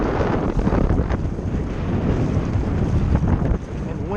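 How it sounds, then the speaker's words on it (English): Strong wind buffets the microphone out on a kayak over choppy whitecap water, a loud continuous low rumble with gusty swells and splashing over its whole length. "And the wind really is not going to get any better."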